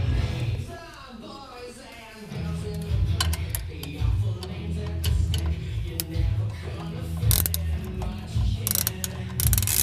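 A hand ratchet tightens the lower bolts of a Rock Krawler lift kit on a 2015 Jeep Willys, giving rapid repeated clicking bursts up close while someone talks over them.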